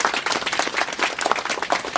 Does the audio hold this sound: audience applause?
yes